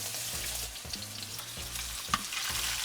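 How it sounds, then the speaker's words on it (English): Homemade salmon burger patties fry in a hot pan, giving a steady close sizzle broken by a few soft pops and scrapes, with no voices. "ever so carefully place it right into your hot pan"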